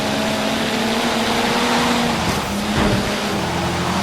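A racing car engine in Forza Horizon 3 drones steadily, with its pitch shifting as it accelerates through gears, heard as game audio without talk.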